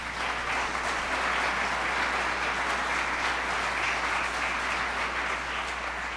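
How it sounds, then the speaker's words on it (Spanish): Steady, dense applause from a church congregation during a Sunday morning service, a continuous wash of many hands clapping over a low electrical hum, unbroken throughout. "Denle el aplauso a Él esta mañana."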